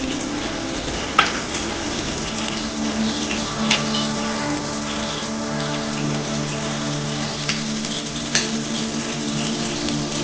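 Green chilies frying in a pan of spiced oil for chole bhature curry, a continuous crackling sizzle with a few sharp pops and clinks, no talking.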